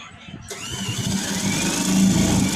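An electric sewing machine stitches in reverse on a trouser hem. Its motor whirs up abruptly after a short pause and then holds a steady, close buzzing hum that swells slightly toward the end.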